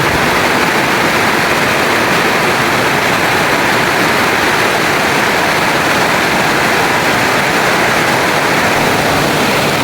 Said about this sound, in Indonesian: Hujan semakin deras.